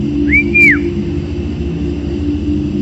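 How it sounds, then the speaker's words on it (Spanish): A single clear whistle rising, holding steady, then falling, over a steady low hum of background noise. "Era un silbido, el silbido de alguien."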